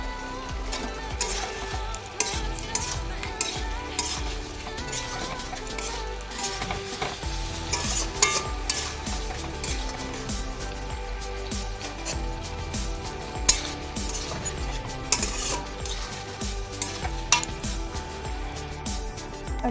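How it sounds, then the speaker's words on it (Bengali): Chilli paneer in gravy being stirred in a pan, with a continuous soft sizzle and frequent clinks and scrapes of a spoon against the metal throughout, no speech heard. "সবগুলো এবার ভালো করে মিক্স করে নিচ্ছি।"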